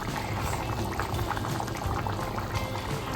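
Ham in red wine simmers in a covered pot, a steady close bubbling and gurgling that runs without pause.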